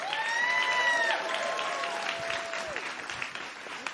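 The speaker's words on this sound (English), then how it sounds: "Please give a big round of applause for Sugar Shakers" Audience applause at a livestreamed award ceremony for a food systems innovation challenge. Loud, dense clapping fills the hall and fades gradually over a few seconds, with sustained tones ringing through it.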